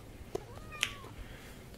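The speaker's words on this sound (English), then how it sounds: "That's my cat." A pet cat gives a single faint, rising-and-falling meow indoors, framed by a couple of soft clicks against a quiet background.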